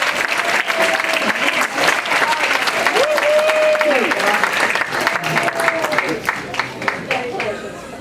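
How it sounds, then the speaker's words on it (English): Sustained applause from a seated dinner audience at a senior residence's fifth anniversary party, dense and steady for the whole stretch with a few voices and cheers rising through it before it thins at the end. "So she deserves a huge applause of appreciation. Stand ovation."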